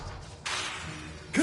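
Diffindo slicing spell cast in Hogwarts Legacy, a sharp magical swish followed by a sustained airy whoosh, then a brief bright chime at the end, with no voices.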